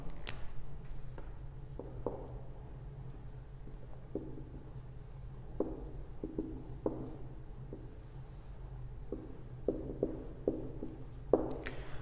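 Pen scratches on paper while a trigonometry proof is written out, soft irregular strokes and taps close up in a quiet room, alone without speech.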